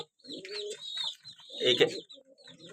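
A pair of pigeons coo and call in short bursts, close by, with brief pauses between.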